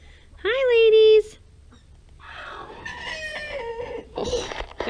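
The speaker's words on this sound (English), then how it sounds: "Oh, that was my rooster." A rooster gives one loud, close crow near the start, followed by softer clucking and a voice talking over the remaining fowl sounds.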